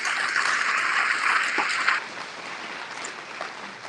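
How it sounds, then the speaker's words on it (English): Audience applause at a county fair coronation, a dense wash of clapping that holds steady for about two seconds, then drops away to a quieter room hum. "Let's give them a round of applause."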